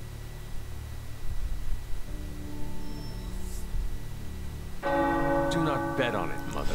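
Tower bells ring in the video game Marvel's Midnight Suns, entering partway through with resonant overlapping tolls that sustain and swell above a low ambient hum.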